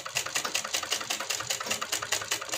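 Sewing machine stitching the hem of a Patiala salwar, a steady fast rhythmic clatter of repeated needle strokes, close and continuous with no talking.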